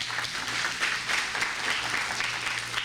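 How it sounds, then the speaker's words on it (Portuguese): Steady applause from a church congregation, a continuous wash of many hands clapping at moderate distance with no break. "Aplauda bem forte ao Senhor."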